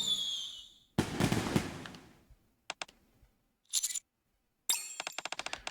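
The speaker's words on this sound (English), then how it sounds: "the shurikens I just threw were rigged with explosives" Explosive-rigged shurikens going off in the NIKKE video game: a sharp blast with crackling decay, then scattered pops and short bursts, ending in a rapid string of crackling bangs separated by silence.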